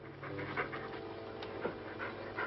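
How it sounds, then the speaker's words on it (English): Heavy, rhythmic panting close by, a run of quick breathy huffs with a few louder bursts, heard alone without talk in a jungle comedy scene. "Stop breathing down my neck, too."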